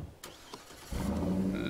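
A car engine cranking and catching in the zombie survival game State of Decay 2, preceded by a few soft clicks and thumps, then settling into a low, steady idle.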